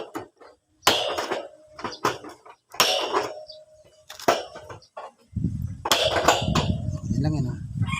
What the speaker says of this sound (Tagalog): Pag may ganito kayo na cutter.